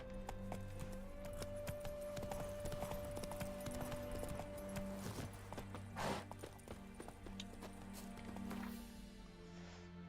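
Hoofbeats from Roach, the horse in The Witcher 3, patter quietly and continuously beneath sustained music tones, faint and fairly distant in the mix.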